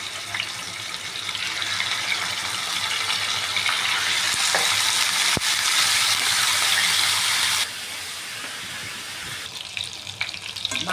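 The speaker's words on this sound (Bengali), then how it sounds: "আমি এগুলো একটু ভেজে নেবো" Meat coated in turmeric, salt and chili powder fries in hot oil with a steady, loud sizzling hiss close up; the sizzle drops a little toward the end, with a few faint clinks.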